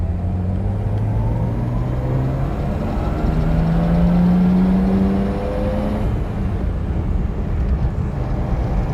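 An NSU Ro80 with its rotary engine accelerating hard in first gear up to about 6,000 RPM, a loud, steady, rising drone heard from inside the cabin, with engine tones sweeping upward.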